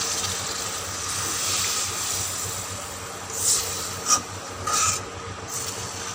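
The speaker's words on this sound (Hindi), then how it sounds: "अब इसमें पानी शामिल कर दूंगी मैं।" Water is added to arbi leaf kofta masala frying in a pan, giving a steady broadband sizzle that swells with a few short bursts toward the end.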